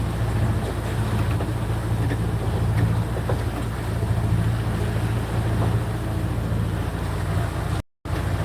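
Sailboat under way off the coast of Fiji: a steady broadband wash of water and hull noise with a low rumble throughout, constant and fairly close, with a brief dropout near the end.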